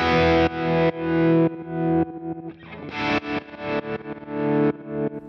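Telecaster electric guitar through a Boss Katana amp with Slow Gear sensitivity set to maximum. A fast run of distorted notes and chords swells unevenly, each one fading in and then cutting off. It plays alone at moderate level.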